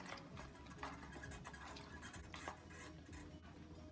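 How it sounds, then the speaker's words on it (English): Seafood gumbo with sausage and blue crabs is stirred in a pot, producing soft, faint sloshing and scraping of liquid and utensil against metal. "Give it another stir."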